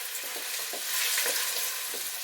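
Onions frying in about three tablespoons of olive oil, a steady bright sizzle with soft repeated stirring scrapes, close and continuous.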